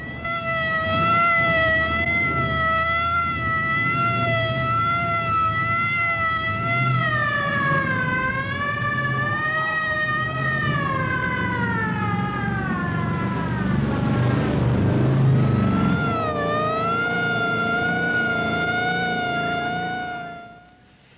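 A Venetian fire engine siren wails, rising and falling in long sweeping tones, loud and sustained, with traffic rumble beneath, fading out at the end.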